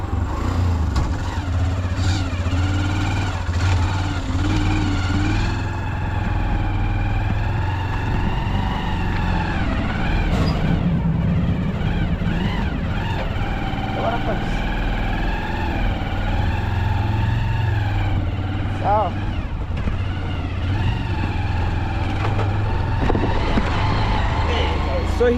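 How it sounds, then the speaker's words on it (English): A motorbike engine runs steadily throughout, with a rumbling idle that rises and falls as it revs. Someone talks over it the whole time. "So guys, here I go. It's with my motorbike."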